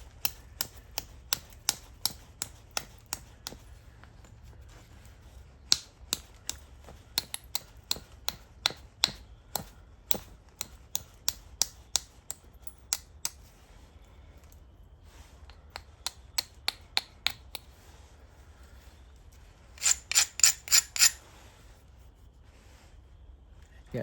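A small stone biface being finished by flintknapping with a bopper, producing sharp, dry clicking strikes in irregular runs and a quick cluster of taps near the end, close and clear over a faint low hum.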